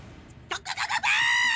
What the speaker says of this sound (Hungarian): Tudhattam volna, hogy van egy poligráf tyúkjuk!